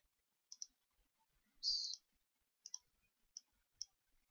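Sparse, quiet clicks of keys and a mouse on a computer as values are entered into a gas law simulation, a handful of isolated taps with one short cluster, in an otherwise silent room.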